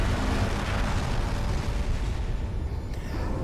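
A magnetic accelerator cannon fires in the video game Space Engineers, making one sustained, loud, rumbling blast that roars steadily for a few seconds with dense low-end power and no voice over it.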